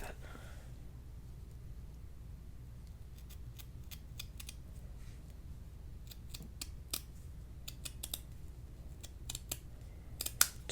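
Scissors cutting burlap ribbon for a paper-craft mini album, with a steady low hum beneath and a series of crisp snips that get quicker and louder toward the end.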